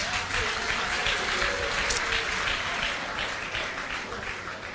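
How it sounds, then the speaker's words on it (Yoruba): Audience applause at a gathering of traditional rulers in Ogbomoso, a steady crowd clapping that holds at an even level for several seconds without pause. "Ẹ pàtẹ́wọ́ fún mi."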